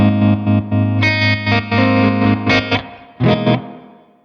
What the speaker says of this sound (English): Let's go with the spring reverb engine in stereo after the amp.